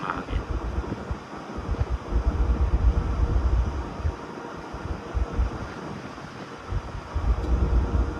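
Strong wind roars and buffets across an open cruise ship deck on the Atlantic Ocean, a steady loud rush with gusty surges close to the microphone and no voices.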